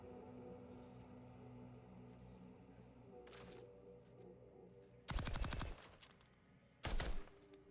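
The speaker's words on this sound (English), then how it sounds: "Air-cooled machine gun." An air-cooled machine gun in Outer Worlds 2 rattles out two short, sharp bursts of rapid fire, the second one briefer, over a quiet, humming background.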